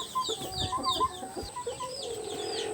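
Several Cochin chickens cluck in short, soft bursts nearby, with scattered peeps and a light background hum.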